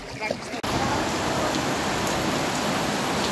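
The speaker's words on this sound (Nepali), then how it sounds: "ठुलो पानी परिरहेछ पोखरामा" Heavy rain pours steadily in a windstorm at the Pokhara lakeside, a dense, loud, continuous wash of drops after a brief softer start with a short voice.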